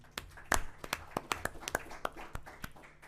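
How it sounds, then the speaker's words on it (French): Sparse applause from a small audience at a panel on renewable energy financing in Africa: a dozen or so distinct, crisp hand claps spaced unevenly, close and moderately loud, with no talking. "Je vous demande d'applaudir Junior Mbouyi, s'il vous plaît."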